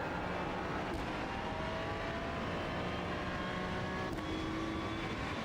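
A Ferrari GT3 race car engine drones continuously around Hockenheim in iRacing, a steady, loud tone rising slowly in pitch, with two brief shifts where the note jumps.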